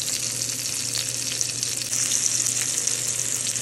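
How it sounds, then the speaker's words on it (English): Keto chicken fried steak frying in bacon grease in a pan, giving a steady, loud, hissing sizzle that runs unbroken throughout with no talking. "I might have let it fry just a little bit too much or a little too high"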